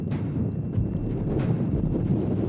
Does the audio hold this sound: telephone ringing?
no